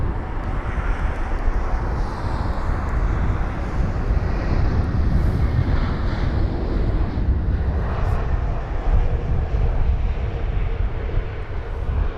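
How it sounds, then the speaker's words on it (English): An Airbus A321neo landing at Heathrow in strong gusty wind, its steady loud roar of engines and rushing air filling the whole stretch without a break, with wind buffeting the microphone. "There it is, that's the A321neo."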